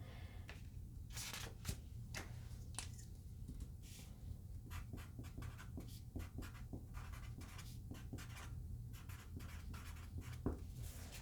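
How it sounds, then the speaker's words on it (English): Pen writing on paper at a tarot reading table, a steady series of short scratchy strokes and taps close to the mic, with a low background hum and no talking. "Let's write that one down."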